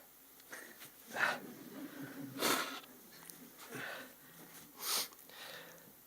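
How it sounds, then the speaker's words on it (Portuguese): Someone blows their nose in several short, breathy bursts, quiet and close, spaced a second or so apart. "Deixa-me só assoar."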